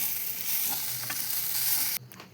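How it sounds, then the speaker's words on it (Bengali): Vegetable momo filling is stirred in a sizzling pan: a soft, continuous frying hiss with light scraping of the stirring, cutting off abruptly near the end. "এবার নাড়িয়ে নামিয়ে দেব।"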